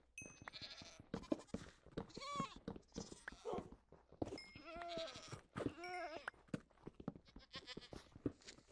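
Goats in Minecraft bleat repeatedly in short wavering calls scattered across the stretch, mixed with game noises and overlapping excited talk from players.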